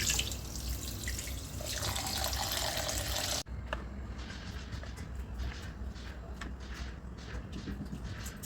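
Surmai (kingfish) being washed in water, a loud rushing tap that cuts off sharply, followed by gentler splashing and dripping as the fish is handled.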